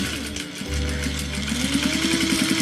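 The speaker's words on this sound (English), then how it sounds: "put my needle down. And then back stitch off." A sewing machine stitches a car caddy seam with needle down and back stitching, its steady motor hum rising into a rapid, rhythmic chatter that stays loud and close without any voices.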